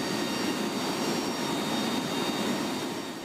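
An RAAF C-130J Super Hercules in flight over Melbourne, its loud, steady propeller roar filling the space as a constant dense drone with a faint whine.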